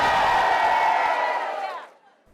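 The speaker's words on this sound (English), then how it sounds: "the noisy but peaceful crowd brought shoppers to a standstill" Loud, dense crowd of protesting retail workers filling an indoor shopping mall, a sustained roar of many voices that swells and then drops away sharply near the end.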